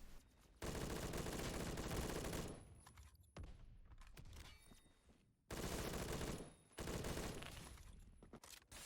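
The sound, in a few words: HK-416 rifle firing in Roblox Phantom Forces video game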